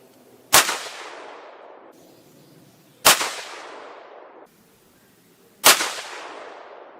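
Three sharp, loud rifle shots from a Bergara MG Lite in 6.5 Creedmoor firing 140 grain match ammunition, evenly spaced about two and a half seconds apart, each ringing off in a long echoing decay outdoors.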